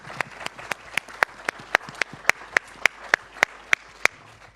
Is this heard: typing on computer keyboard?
no